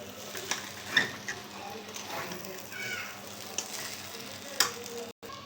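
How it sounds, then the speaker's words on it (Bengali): Noodles are stirred and mixed in a hot pan with sauce, giving a soft continuous sizzle broken by several light scraping taps from the utensil. A faint voice may sit in the background. "এটাকে এখন ভালোভাবে নাইড়া মিশিয়ে দিব।"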